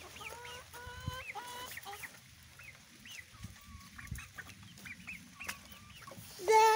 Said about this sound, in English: That chicken will go back in.